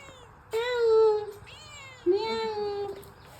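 Two drawn-out cat meows, one after another with a short gap, close and fairly loud over a quiet background.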